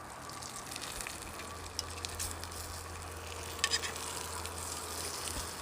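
Bacon sizzling in a blackened pan over a small gasifying wood stove, a soft, steady crackle and hiss with a low hum underneath and a few faint pops.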